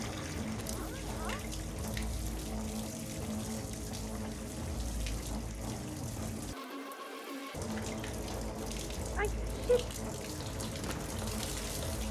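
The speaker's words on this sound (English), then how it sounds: "Turn on the faucet to lure one of the two maids from the adjacent room here." Bathroom faucet running in the Hitman game level Santa Fortuna, a steady water hiss that drops out briefly midway, with muffled game ambience beneath.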